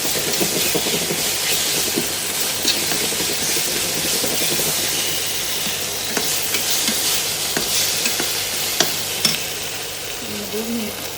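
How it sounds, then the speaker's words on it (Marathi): Tomato with ginger-garlic paste sautés in a pan on an infrared cooktop, giving a constant loud sizzle with repeated scraping and stirring sounds on top. "तर यामध्ये आलं लसणाची पेस्ट घालून घेतलेली आहे. परतून घ्यायचं."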